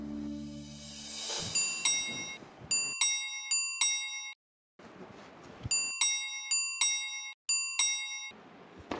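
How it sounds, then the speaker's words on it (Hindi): A bright electronic doorbell chime rings again and again in quick clusters of ding tones inside a home, with short gaps between the rounds and no talking over it. "कब से घंटी बज रही है"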